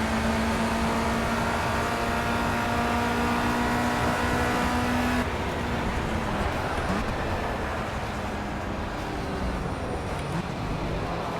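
Race car in Project CARS at Snetterton, FR UK Challenge, accelerating out of a hard right turn: steady loud engine drone with a held tone that shifts partway through, no voices.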